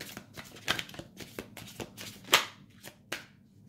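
Tarot and oracle cards riffled and shuffled by hand, a run of short papery bursts and flutters with a sharper snap near the middle, close and fairly quiet with no voices.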